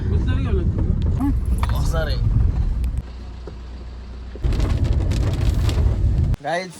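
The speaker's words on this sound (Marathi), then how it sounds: "लोचा झालाय पाऊस आलाय" Steady rain hiss in the background under scattered talk and some traffic-like rumble, with the loudness shifting in sections.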